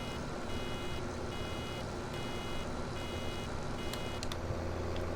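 A vehicle's reversing alarm beeps in a steady, repeating rhythm over a constant low engine rumble in Farming Simulator 17, with no one speaking.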